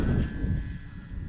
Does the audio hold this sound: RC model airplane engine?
yes